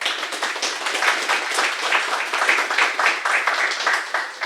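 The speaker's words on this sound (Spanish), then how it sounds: "Un pequeño aplauso para el profesor que ya es su última sesión." Audience applause for a professor at the close of a physics seminar session, a steady patter of many hands clapping without a break.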